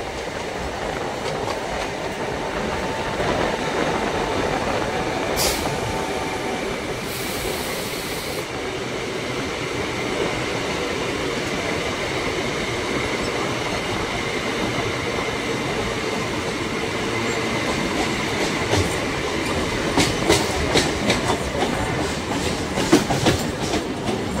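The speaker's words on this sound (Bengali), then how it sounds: "আমাদের ট্রেন ঢুকে গেল রানাঘাট জংশন" A memo passenger train rolls into Ranaghat Junction, a steady rumble of wheels and carriage noise running throughout with clicking rail joints and a few sharp squeaks and clanks toward the end.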